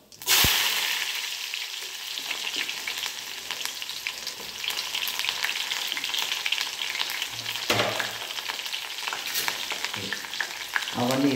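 Chopped onions dropped into hot oil with mustard and cumin seeds burst into a loud, close sizzle that carries on steadily, broken by occasional stirring scrapes. No one speaks over it.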